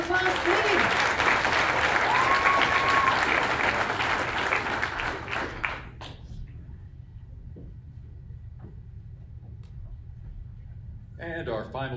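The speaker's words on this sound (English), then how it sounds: "give her a round of applause, please" A crowd claps for a contestant at a civics bee in Buena Vista, Colorado, with full applause for about five seconds before it drops away to a quiet room, and a voice begins talking near the end.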